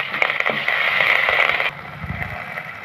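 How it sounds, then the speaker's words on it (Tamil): Curry leaves drop into hot oil for a carrot kulambu, giving a loud, continuous sizzling crackle that settles abruptly into a quieter fry partway through, with a few soft clatters near the end. "இப்போ நம்ம கருவேப்பிலையை சேர்த்துக்கிடலாம்."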